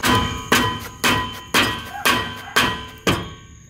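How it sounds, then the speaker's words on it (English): Seven evenly spaced dull, resonant strikes of a rubber mallet against the brake rotor of a Ford F150, each ringing briefly with a metallic tone before the next blow. "So I'm using a rubber mallet"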